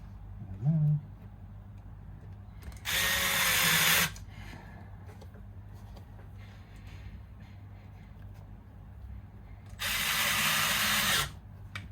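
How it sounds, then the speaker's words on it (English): Electric power driver sinking screws into a Yamaha Pacifica electric guitar during a setup: two bursts of whirring motor lasting about a second each, close and loud, with quieter handling and clicks between them. "Let's put a screw back in here and there."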